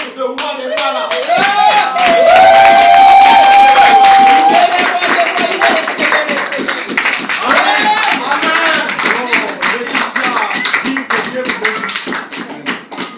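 A church congregation in Paris claps and applauds loudly and rhythmically, many hands beating in time while voices shout and sing over the clapping for the whole stretch.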